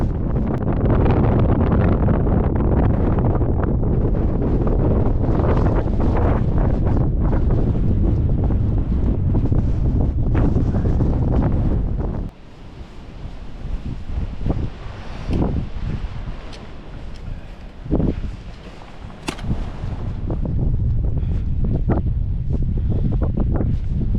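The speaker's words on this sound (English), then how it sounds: "even here, it's bloody windy." Strong wind in the Lake District hills roars and buffets the microphone for about twelve seconds, then drops to gusty, uneven rushing with occasional sharp bumps.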